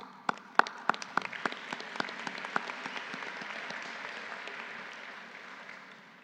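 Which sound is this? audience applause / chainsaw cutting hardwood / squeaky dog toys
audience applause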